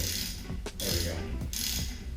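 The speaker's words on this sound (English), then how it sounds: "I'm able to get in there with the wrench. Alright, so I got that bolt out." A wrench working a bolt free from a Tremec Magnum XL transmission during disassembly, with close mechanical ratcheting clicks and metallic scraping in short bursts.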